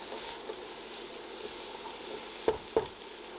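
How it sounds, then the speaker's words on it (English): Peppers, carrot, spices and tomato paste are stirred in a pan over a low steady sizzle, with two sharp scrapes or clacks of the utensil near the end. "Give everything a good stir until all the ingredients are well combined."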